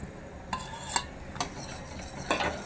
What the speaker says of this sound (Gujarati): અહીંયા હલાવતા રહેવાનું છે ધીરે ધીરે